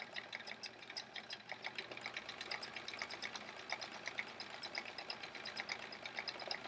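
Sewing machine running steadily during free-motion quilting, a quiet rapid ticking stitch rhythm with a faint motor hum, alone without talk.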